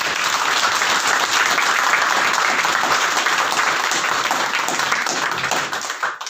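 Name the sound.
applause, congregation clapping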